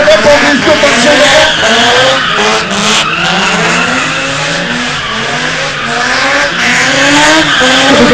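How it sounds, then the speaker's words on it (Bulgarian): A powerful car drifts on a wet track at the BG Drift Show in Sofia, its engine revving hard in rising and falling waves with continuous tire squeal, loud and close throughout. "Ето това е дрифта!"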